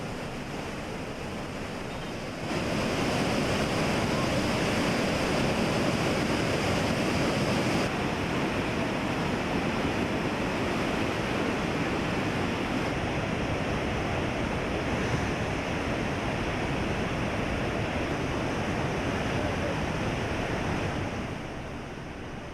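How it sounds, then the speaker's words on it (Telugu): Water from three raised gates of the Srisailam dam, a release of about one lakh cusecs, roars as a steady, loud, broadband rush that continues unbroken through the whole stretch without speech. "మూడు గేట్ల నుంచి లక్ష క్యూసెక్ల నీరు విడుదల చేస్తున్నారు అధికారులు"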